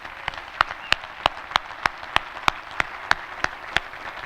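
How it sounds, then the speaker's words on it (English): Applause at a cemetery dedication ceremony, heard as a dozen sparse, evenly spaced claps at moderate distance over a quiet outdoor background, like a small scattered crowd, with no talking over it. "let's collectively give everyone that helped out with the ceremony a big round of applause."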